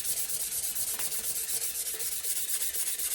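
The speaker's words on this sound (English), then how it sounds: "we're sanding this cup just to get all the factory gook off the cup" A cup is sanded by hand with 400 grit sandpaper, a close, steady, rhythmic rubbing hiss of quick back-and-forth strokes with no talking.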